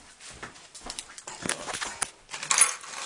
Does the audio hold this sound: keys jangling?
yes